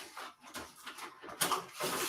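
Sheets of ordinary copier paper rustle and crinkle as they are picked up and handled, with brief crisp swishes and a sharper crackle near the middle, close by and fairly quiet.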